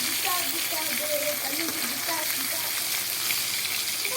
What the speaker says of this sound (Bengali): পাল্টাই লাল লাল করে ভেজে নেব মাছটা